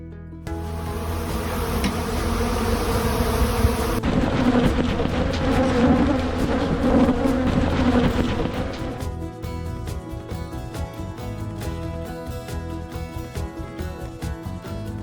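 Honey bees buzz in a dense, droning swarm for the first half, then the hum gives way to a tonal musical background.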